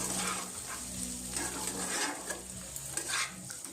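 Chopped loté fish frying in a pan for a Bengali chilli dish, a steady close sizzle with faint scraping and stirring throughout, no talking.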